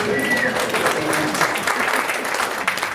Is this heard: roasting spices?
no